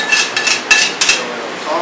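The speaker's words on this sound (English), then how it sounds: "scrape out the extra sauce in the pan" A utensil scraping leftover tomato and eggplant sauce out of a pan onto pasta, several sharp metallic scrapes and knocks close up, with pauses between strokes.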